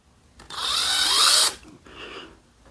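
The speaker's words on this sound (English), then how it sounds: "I'm going to go ahead and punch this through with my bit" A power drill with a 3/8 bit whirs loudly for about a second as it bores through material, then stops; a brief, quieter mechanical whir follows.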